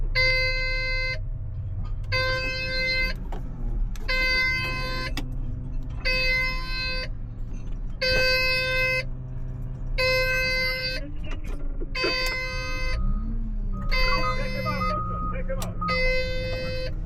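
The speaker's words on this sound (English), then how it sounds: "I probably hit a steering sensor or something, and now I've got a steering fault warning popping up" A steering fault warning alarm sounds in a heavy equipment cab, a loud electronic beep repeating in evenly spaced one-second pulses nine times over a low engine idle, with a brief shift of machine noise near the end.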